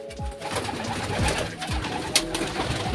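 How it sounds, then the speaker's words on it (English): Swan pigeons coo in cages of nests among other caged pigeons, several low repeated coos overlapping in a busy, steady chorus with an occasional sharper call. "That's a swan pigeon."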